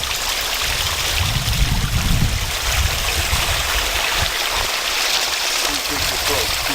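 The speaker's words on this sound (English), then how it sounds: "it's now a waterfall coming through the fireplace" Water pours as an indoor waterfall through an old fireplace in an abandoned sanitarium, a constant splashing rush at close range, with low footsteps or handling bumps and occasional movement noise mixed in.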